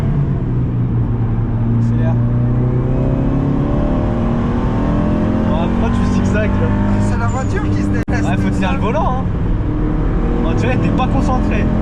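A series-production car driven hard on a race track, its engine droning and surging steadily throughout with a whirring tone, while people talk inside the car over it.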